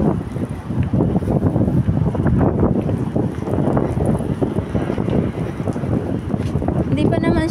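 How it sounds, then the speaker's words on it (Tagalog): Steady wind by the sea in Hong Kong rushes and buffets the microphone throughout, loud and continuous, with a low rumble and a voice speaking underneath. "Mahangin talaga guys."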